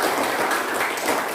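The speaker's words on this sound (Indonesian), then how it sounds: "Berikan tepuk tangan untuk ketua." A classroom of students gives a short burst of applause for their class leader after prayer, a brief, busy patter of many hands clapping together.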